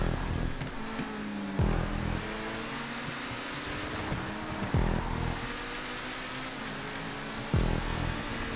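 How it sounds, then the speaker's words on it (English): A race car in GTA 5 drives a race track, its engine droning and revving steadily with brief surges, loud and continuous, with no voices over it. "God, I love this car."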